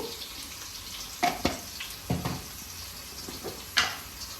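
Onions frying in a pan for a chicken fry, a soft continuous sizzle broken by a few sharp clinks and stirring knocks of a utensil against the pan.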